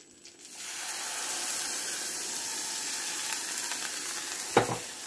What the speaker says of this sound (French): je vais mélanger sans arrêt jusqu'à ce que mon mélange devienne homogène et commence à épaissir